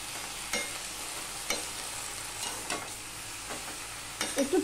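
Salt and turmeric are stirred into a vegetable curry in a pan, with a constant low sizzle broken by several distinct spoon scrapes and taps and a short clatter at the end, and no voices.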